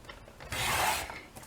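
Designer paper for cards being cut on a paper trimmer, a single short sliding rasp of the blade lasting about half a second, with quiet clicks of the mechanism before and after.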